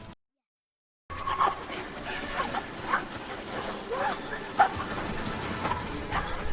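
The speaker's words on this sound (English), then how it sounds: "Is that a dog?" A dog, presented as a robot pet at a futuristic pet store, gives a few short yips and whimpers amid store ambience, with people talking over it.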